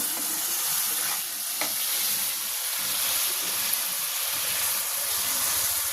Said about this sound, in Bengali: মশলাটা আবার সুন্দর করে কষিয়ে নেব